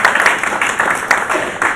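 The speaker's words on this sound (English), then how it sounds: "I just want to give them a round of applause." Audience applause in a room at a San Francisco talk event, a steady dense wash of clapping with slight surges, fairly close and continuous throughout.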